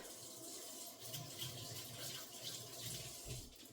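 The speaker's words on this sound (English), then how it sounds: "I'm going to rinse my fingers with some soap." Water runs steadily from a kitchen tap as fingers are rinsed with soap, a constant soft rushing splash throughout, with no talk.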